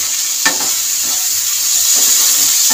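Tomato sautéing with spices in a pan for a Bengali fish dish, a steady loud sizzle with a few scraping stir strokes, no talking.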